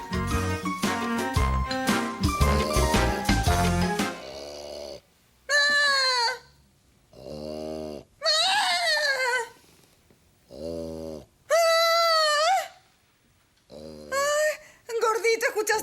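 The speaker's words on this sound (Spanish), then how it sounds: "¿Qué es ese ruido? ¿Quién ronca de esa manera?" After a few seconds of music, a person in a sitcom snores loudly and theatrically, in separate bursts of low rasping inhales and high wailing exhales with short silences between them.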